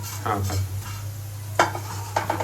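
Spinach and pangas and pabda fish sizzle in a pan while a spoon stirs them, scraping and clinking against the metal in a few distinct strokes over a steady, close frying hiss.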